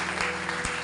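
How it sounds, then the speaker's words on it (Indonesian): Church congregation applauding during a sermon, a short, even burst of many hands clapping, moderately quiet and without speech. "Berikan tepuk tangan begitu."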